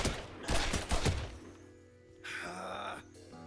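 Gunfire in Mafia 3 cracks in a rapid burst of shots against glass, followed by a brief lull and then a harsh, bright rush of noise, all loud and close.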